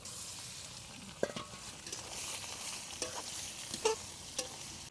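Pork sizzles and fries in a pan with onion, a constant crackling hiss joined by a few soft clinks and scraping stirs, close and fairly quiet with no talk.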